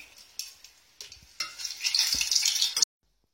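Malagasy beignets (mofo baolina) frying in hot oil start with a few sharp utensil clinks, then a loud, close sizzle that builds for over a second before cutting off abruptly.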